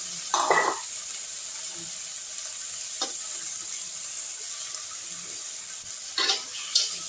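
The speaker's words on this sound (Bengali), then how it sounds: "ডালটাও আমি ফোড়নের সঙ্গে ভেজে নিচ্ছি" Washed red lentils (masoor dal) fry with tempering spices in a pan, a soft continuous sizzle with a few scraping stirs, fairly close and moderate, no talk.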